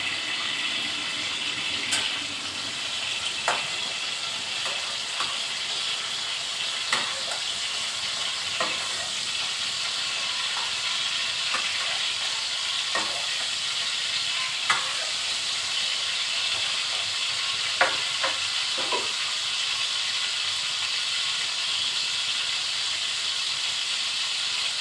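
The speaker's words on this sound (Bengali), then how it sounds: "চিংড়ি মাছটা আমার হালকা ভাজা হয়ে গেছে।" Shrimp fry lightly in oil with a steady, close sizzle that holds for a long stretch. Scattered sharp clicks and taps from a spatula or the pan come through at irregular intervals, and nobody speaks.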